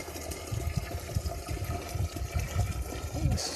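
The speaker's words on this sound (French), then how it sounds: "Là, on va remplir notre conteneur de l'eau." Water pours into a plastic bottle container for a homemade irrigation setup, a steady close gurgling fill with an irregular bubbling rhythm and no speech.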